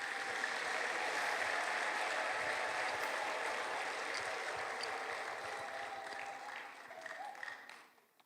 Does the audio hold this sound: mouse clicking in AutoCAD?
no